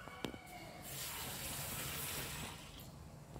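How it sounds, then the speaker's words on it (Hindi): Tap water runs steadily into a bowl as two bowls of rice are washed at home for Schezwan fried rice, a broad rushing stream swelling after a brief click and holding close and even, with no talk. "मैंने 2 बाउल चावल लिए हैं, उसे धो धो लेंगे।"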